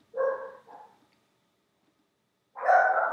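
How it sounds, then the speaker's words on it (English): Dogs bark in a short burst of two or three yaps, then pause in silence before another louder bark flares up, heard indoors at moderate distance. "the dogs are going crazy in the background"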